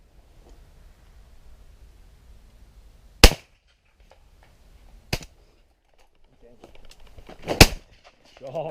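Shotgun shots in the open at pigeons over a flattened barley field: three sharp, loud, separate blasts spaced a couple of seconds apart, the last a quick close pair, with faint rustling between and no talk over them.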